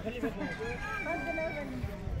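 Chickens at a small mini zoo give a brief, faint crow-like call against quiet background noise, with people talking softly around them.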